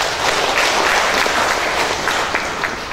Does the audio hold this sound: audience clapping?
yes